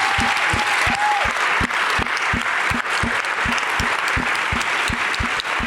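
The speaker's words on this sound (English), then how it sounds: "That's a round of applause." Sustained audience applause fills a panel event on costume design at UCLA, dense and steady throughout with a regular low thumping underneath.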